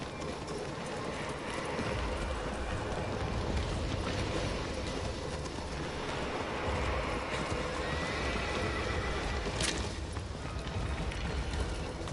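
A horse in the video game Shadow of the Colossus whinnies over steady galloping hoofbeats and a constant dense rumble, with a sharp high cry near the end.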